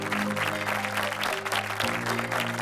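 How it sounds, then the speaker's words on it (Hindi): A studio audience at a televised cooking-competition grand finale applauds in a brief, dense burst, with faint music running underneath the clapping. "बाकी की टीम के लिए भी एक बेहतरीन तालियां हो जी"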